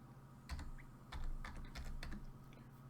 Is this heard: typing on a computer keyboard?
yes